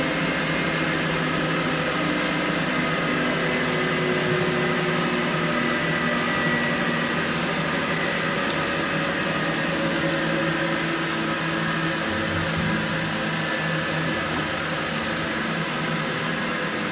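An industrial washer extractor laundry machine on a soft mount runs with a steady, dense broadband mechanical drone and hum, loud and continuous throughout with no talk.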